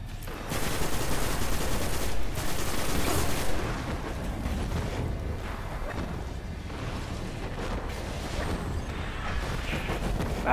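Rapid video-game gunfire fills the clip as a dense, loud barrage of overlapping shots, heaviest over the first few seconds and then continuing steadily with little let-up.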